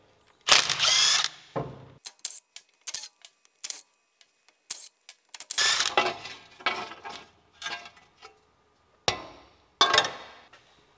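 An impact tool removes 14 mm bolts from the axle knuckle of a Nissan GU Patrol, giving short sharp bursts of rattling and whirring separated by pauses and clinks of metal, close by and moderately loud.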